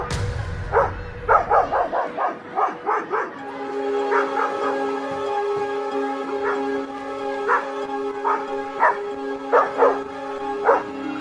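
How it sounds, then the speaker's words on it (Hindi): Several dogs bark and yip in short repeated bursts at a school, some barks close and loud, others overlapping farther off, with a steady tonal hum underneath throughout. "स्कूल में फिर से कुत्ते घुस"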